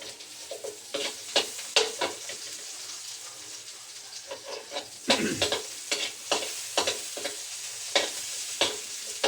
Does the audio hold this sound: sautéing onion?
yes